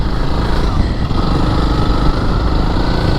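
Small engine, likely a motorbike, races fast across beach sand at Rainbow Beach, a steady, loud buzzing drone that holds for the whole stretch with wind rush and no clear speech over it.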